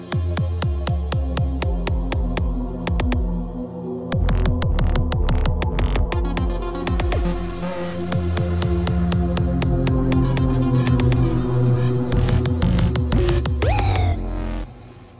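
Synthesizer tones with repeated sweeping filter cutoff and pitch bends, rapid rhythmic stabs and gliding notes layered into a dense, loud electronic texture that cuts off near the end, no speech.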